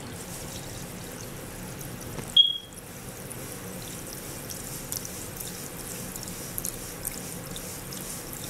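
Water pours into lye for soap making, a faint continuous trickling hiss with a brief sharp clink near the start.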